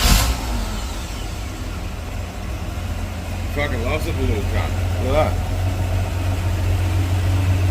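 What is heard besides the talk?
Hemi 245 Valiant engine starting and idling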